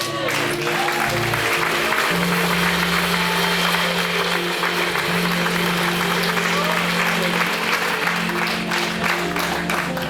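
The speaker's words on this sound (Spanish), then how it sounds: "Dar un aplauso." Church congregation clapping together, a dense, continuous applause spread across the room, steady for about ten seconds, with a sustained organ-like tone underneath.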